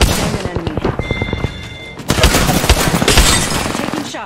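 Gunfire in the battle royale shooter Apex Legends: a rapid run of close shots, followed by a louder, denser burst of fire and impacts that continues to the end.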